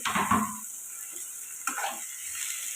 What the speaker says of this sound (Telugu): ఇప్పుడు ఇది కలుపుకొని టమాటా మెత్తబడిన దాకా మగ్గించుకున్నాం